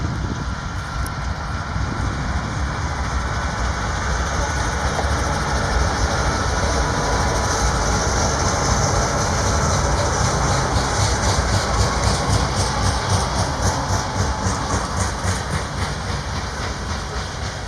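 A CSX heritage-painted locomotive and its train roll past trackside in Greenup, Kentucky, a loud, steady rumble with continuous clickety-clack of wheels over rail joints and no talk.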